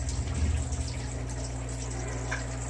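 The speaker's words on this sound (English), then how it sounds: "doing a water change, sucking out mulm" Aquarium water and mulm are siphoned out of a 75-gallon sand-bottomed tank during a water change, a steady close gushing, sucking flow over a low pump-like hum throughout.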